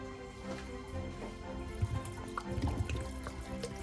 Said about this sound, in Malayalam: ആവശ്യത്തിന് വെള്ളം ഒഴിച്ചു കൊടുക്കണം.